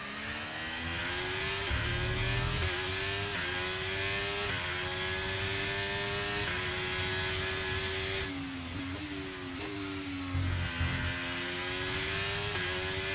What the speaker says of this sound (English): You're revving it too high.